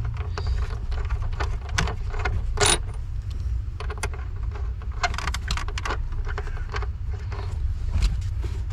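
Torx 40 key working loose the large front seat bolts of a Peugeot 308 T9: faint, irregular metallic clicks and ratcheting scrapes over a low background hum, with no talking.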